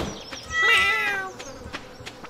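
A single drawn-out cat meow in the video game Stardew Valley, bright and close, with soft game background ambience around it.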